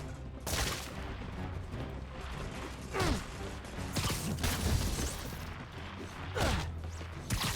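Web bomb gadget going off in the Spider-Man PS4 video game, a burst of bangs, crashes and mechanical clatter with several sharp blasts over a few seconds amid busy game sound.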